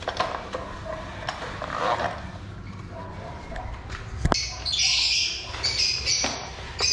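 Aviary birds squawk and chirp in bursts over the back half, mixed with clatter and footsteps as someone moves around the enclosure.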